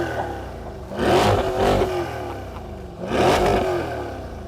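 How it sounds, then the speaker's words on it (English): A Corvette C8 V8 with a cross-plane crank revs in two loud, rough bursts that rise and fall, with a burbly engine note and a low idle rumble between them. "here's a comparison between a V8 in a Corvette C8, which uses a cross-plane crank"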